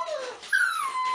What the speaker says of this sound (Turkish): Bir kurt gibi ulumaya başladılar.